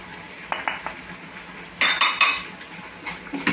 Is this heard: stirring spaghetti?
yes